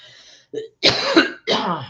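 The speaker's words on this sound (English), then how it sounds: "let me cough and drink some water" A person coughs and clears their throat in a few harsh bursts separated by short pauses, close up.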